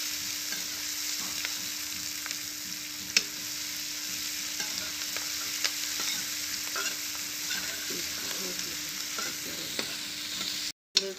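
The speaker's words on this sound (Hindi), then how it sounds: "मेरे प्याज भुन जाएंगे" Onions fry in a pan while being stirred, giving a steady soft sizzle with occasional scraping clicks from the spoon, close but fairly quiet, with no talking.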